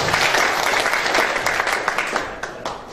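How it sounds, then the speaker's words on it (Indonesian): An audience at a public talk on Indonesian welfare bursts into sustained, dense applause, loud and close, with many hands clapping continuously for a few seconds before tapering slightly. "Aplaus dulu, luar biasa."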